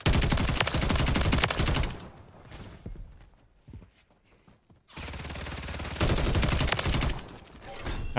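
Rapid automatic gunfire from a Taq Evolvere rifle in Modern Warfare 3 rattles in dense, loud bursts, breaks off for a few quiet seconds, then resumes in heavy sustained fire.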